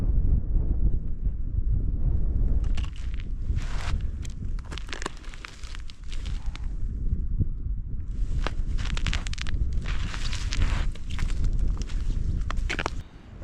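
Strong wind sweeps across open lake ice during ice fishing for trout, a loud, continuous low roar with gusty buffeting on the microphone, close and unbroken, with no voices.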